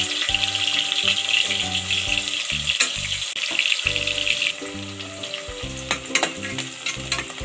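Two large onions frying in hot oil in a pressure cooker for vegetable biryani, a loud steady sizzle with stirring scrapes and clanks throughout, close up and with no talking.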